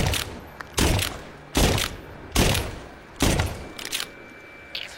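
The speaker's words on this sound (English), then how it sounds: "That way you can fire off more shots in a quick succession" A gun in a video game firing in quick succession, five loud, booming shots about a second apart with some fainter clatter between them.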